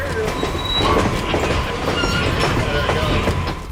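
Western Maryland train hauled by a Dash 8 locomotive rounding a curve, a loud, steady roar of engine and rolling wagons with rhythmic wheel clatter and faint squeals throughout, close by.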